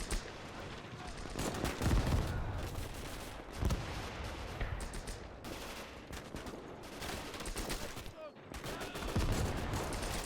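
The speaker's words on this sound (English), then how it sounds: "Maxim machine gun firing for full effect. Mortars dropping close." Soviet Maxim machine gun fire and nearby mortar impacts in the Gates of Hell game: dense, sustained crackling gunfire runs the whole time, broken by a few heavy booming blasts.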